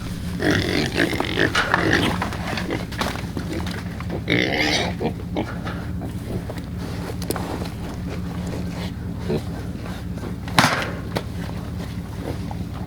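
Pigs feeding on pumpkin grunt and snuffle continuously outdoors, with chewing and rustling over steady wind noise and one sharper knock near the end.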